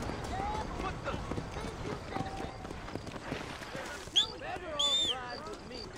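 Horse hooves clip-clop in a steady run in Red Dead Redemption, moderately loud beneath game ambience, with someone talking over the later part.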